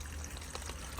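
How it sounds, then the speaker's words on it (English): Dirty waste water drains from a caravan waste tank of an Elddis Majestic 155, a steady close splashing trickle with a low rumble throughout. "allow this to drain off, because you don't want to carry the added weight of dirty water"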